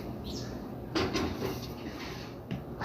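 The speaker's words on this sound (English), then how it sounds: "Now we're going to put this one in the oven." An oven door opens with a short clunk and a brief scrape as an apple pie goes in, set against a steady background hum in a home kitchen.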